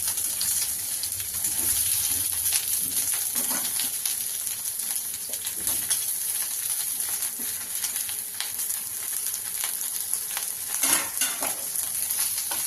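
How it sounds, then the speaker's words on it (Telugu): Onions and green chillies fry in a pan over a low flame for a tomato onion chutney, with a steady close sizzle and frequent scraping stir strokes. "ఈ పచ్చిమిర్చి ఆనియన్స్ బాగా వేగితే"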